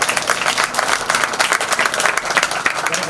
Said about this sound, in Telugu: సరే వీళ్ళకు కూడా గట్టిగా చప్పట్లు కొడతారు.